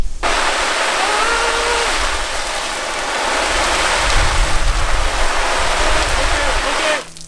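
Garden hose spraying water onto a Canada Goose Crofton jacket, a loud steady broadband hiss and splatter lasting several seconds before cutting off abruptly.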